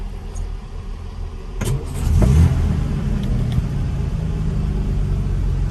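A 1965 Jaguar Mark II 3.4 with manual overdrive cranks briefly, fires up with a surge, then settles into a steady, throbbing rumble at idle, heard close and alone.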